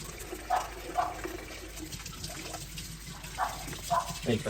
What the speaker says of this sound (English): I'll be washing carrots and the potatoes.